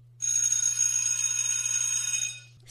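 A bell sound effect from a phone app rings once in a bright, sustained metallic trill that cuts off abruptly, heard alone and fairly faint.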